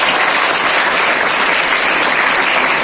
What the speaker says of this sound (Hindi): ये दिल वाली ताली है, सब देखो ताली सब दिल से बजा रहे हैं।